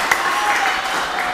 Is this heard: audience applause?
yes